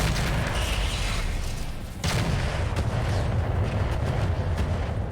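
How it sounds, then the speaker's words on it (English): Missile strikes pound a mech in a video game, a continuous loud barrage of rumbling booms and blasts with a brief dip partway through before the heavy fire resumes. "we barely blew up the left torso with those missile strikes"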